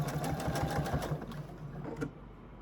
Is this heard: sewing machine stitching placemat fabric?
yes